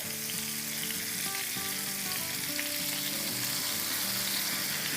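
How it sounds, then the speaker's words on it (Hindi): Qureshi kababs fry in butter in a pan with a steady, close crackling sizzle, and faint musical tones run underneath. "थोड़ा सा बटर और डालेंगे ताकि अच्छे से फ्राई हो सके।"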